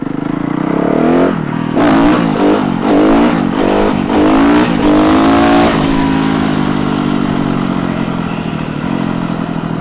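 Yamaha 250 YZF motorcycle engine revving hard in repeated rising bursts as the rider pulls a wheelie, loud and close, then settling into a steady drone for the last few seconds.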